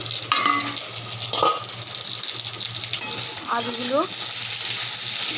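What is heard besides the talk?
potatoes frying in oil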